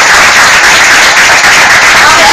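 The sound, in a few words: audience applause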